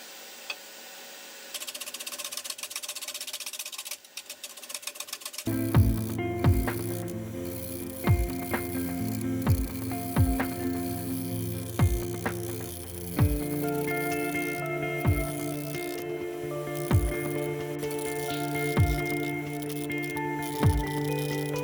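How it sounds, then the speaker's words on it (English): A woodturning lathe spins a natural edge vase while a freshly sharpened chisel shear-scrapes the rim, giving a steady hum with repeated light scraping contacts after a brief stretch of quieter handling. "I'm just going to finish that with a bit of shear scraping and a just nice freshly sharpened chisel."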